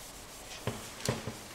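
A Scotch-Brite pad scuffs the painted surface of a motorcycle tank in a few faint, soft rubbing strokes, with quiet pauses between them.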